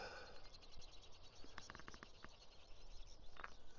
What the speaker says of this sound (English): I hear a lot of bird song.